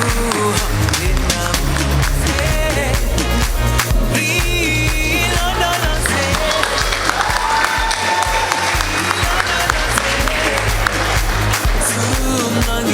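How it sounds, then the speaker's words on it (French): An audience at an eloquence contest final applauds, a dense sustained clapping from a full hall that runs continuously with music-like tones and voices underneath. "À tout seigneur, tout honneur, vos applaudissements"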